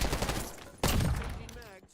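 Gunfire in a Warzone match bursts in loudly as a sharp volley partway through, with a dense rattle of shots that trails off toward the end.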